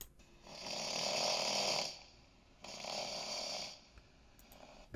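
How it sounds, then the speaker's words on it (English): Two long, rasping AI-generated snores, each drawn out for over a second with a quiet pause between, heavy and throaty, with no talking. "now that sounds horrible, just like a snore"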